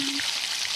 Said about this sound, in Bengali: একই তেলের উপর আমি এবার ছেড়ে দিচ্ছি 1 চামচ রসুন কুচি